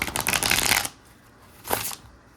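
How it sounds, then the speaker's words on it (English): A tarot card deck being shuffled in hand, a dense riffling burst for almost a second, then a quieter pause and one shorter flurry of cards, close and alone. "I think I have a little bit of trouble shuffling"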